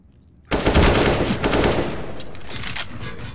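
Rapid automatic gunfire in a shooting video game erupts suddenly and loudly, a dense burst that continues as a sustained rattle before gradually easing off.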